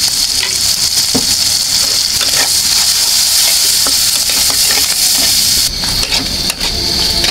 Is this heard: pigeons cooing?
no